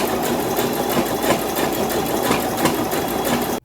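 A sewing machine runs steadily while stitching a rope basket at a 2.5 stitch length, giving a continuous close mechanical hum and rapid needle chatter that stops abruptly at the end.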